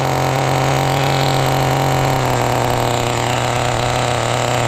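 A never-run HPI Nitro RS4 RC car with a single-speed, single-needle carb runs its small nitro engine at raised RPM, making a loud, continuous high-pitched buzz with a steady drone underneath.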